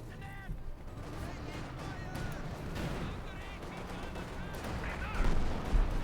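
Heavy mortar fire and battle noise from the strategy game Company of Heroes 2, with dense bursts of explosions and gunfire rumbling throughout and a sharper, louder blast near the end.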